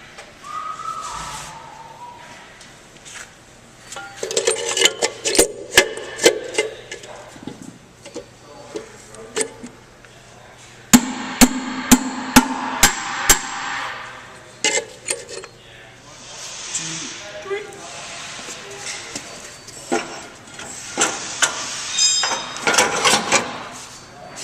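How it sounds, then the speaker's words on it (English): Sharp hammer blows on a seal driver seat the outer wheel seal on the right rear hub of a bus chassis, coming in irregular bursts of several metallic strikes with pauses between them, close up, with some shop noise and whistling-like tones around them. "Now we're putting the outer seal back in with the seal driver and a hammer."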